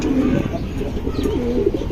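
Silver pigeons kept by a fancier give rolling, warbling coos in short bursts, close and fairly loud, with some light chirps mixed in and a faint hum of voices behind.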